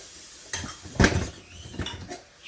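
Food being mixed in a cooking pot for Kalkandu Sadham or Chettinad Kootukai Kuzhambu, with a few faint close metallic scrapes and clinks of a utensil against the pot.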